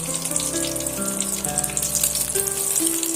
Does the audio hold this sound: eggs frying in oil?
yes